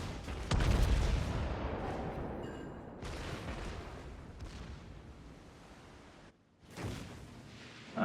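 Heavy naval gunfire and shell explosions in World of Warships, with a Montana battleship firing: a loud booming salvo up front, a long rolling rumble, then a brief drop before another blast near the end.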